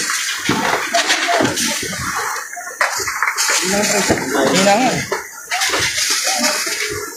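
Water from fire hoses sprays and splashes at a house fire in Barangay Obrero, Quezon City, a loud continuous rushing hiss under excited shouting voices nearby.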